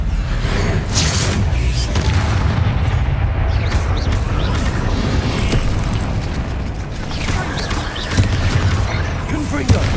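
Heavy booming spell blasts from the Bombarda and Confringo spells in the video game Hogwarts Legacy, loud rumbling bursts that keep recurring over dense low-end combat noise, with a voice speaking over them.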